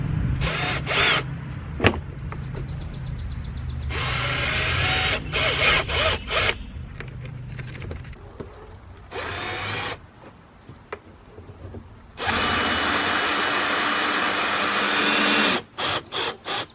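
Power drill driving fasteners through wooden blocks on a Protapod fly trap lid, with repeated whining bursts of varying length, some short and some sustained for several seconds, separated by quiet pauses and clicks, close and loud.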